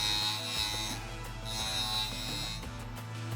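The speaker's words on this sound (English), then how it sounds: "Rotate the clamp holder from side to side to begin sharpening the end of the bit." A drill bit sharpener machine grinds the end of a bit, a steady electric whine and buzz with brief shifts in tone as the bit is rocked from side to side.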